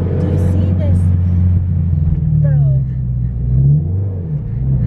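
Scion FR-S car revving under acceleration with a steady low engine drone that dips and rises as it shifts gears, heard from inside the cabin with people talking over it.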